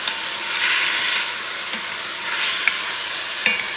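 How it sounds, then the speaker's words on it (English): Beef stew meat for Puerto Rican carne guisada sizzles loudly in a pot. Pan juices hiss steadily while a utensil stirs, with a few scraping clinks against the pot. "you add your meat, and I add in the juices too"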